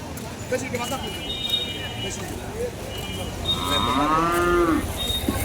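Cattle moo loudly nearby, with a long drawn-out low call near the end, over a busy crowd murmur and distant traffic.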